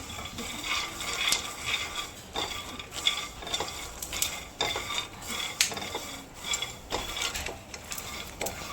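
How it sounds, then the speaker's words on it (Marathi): A spoon keeps turning and scraping peanuts as they dry-roast in a pan, making repeated clinking, rattling strokes at a brisk, uneven rhythm, close and clear with no talking. "पूर्ण शेंगदाणे सारखे भाजून झाले पाहिजे म्हणताना चम्मचने त्याला असं फिरवतच पलटवतच राहायचं"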